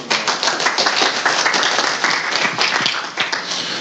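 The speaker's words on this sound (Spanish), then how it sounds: "Un aplauso para Gerard" Dense applause from an audience welcoming Gerard as a speaker, steady and loud for about four seconds with no voice over it.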